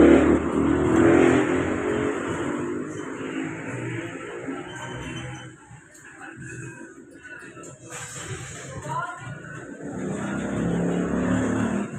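A Mitsubishi Montero Sport drives along stuck in third gear with the gear indicator blinking, its engine revving loudly and straining. The engine eases off partway through, then builds again under steady road noise.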